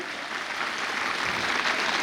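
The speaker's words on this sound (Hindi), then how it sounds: "आप एक बार जोरदार तालियां बजाएं उनके लिए।" Loud, steady applause from a crowd at a police training farewell party at APTS Chunar, Mirzapur, filling the whole stretch without a break.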